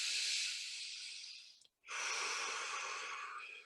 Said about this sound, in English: Keep breathing, real deep breaths.